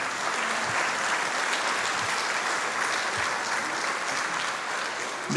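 A crowd at a Republican governor candidates forum in St. Clair County, Illinois gives a steady round of applause, a dense even wash of clapping held at a moderate level throughout.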